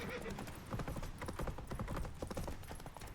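Hooves of the horse Roach clip-clop steadily in The Witcher 3: Wild Hunt, on Skellige, a rhythmic walking gait close by and moderately loud, with no talk.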